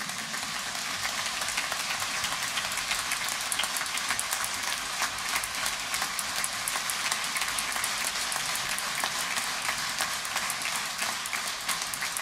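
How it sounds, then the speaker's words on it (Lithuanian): A concert audience at an orchestra's New Year concert applauds steadily, with dense, sustained clapping from a large crowd that holds an even level throughout, with no talking. "Aplodismentų niekada nebūna per daug"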